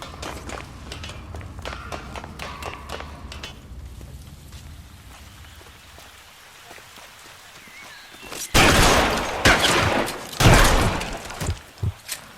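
Gunfire in the L.A. Noire video game: a burst of loud, close shots in quick succession near the end, following quieter footsteps and background game ambience.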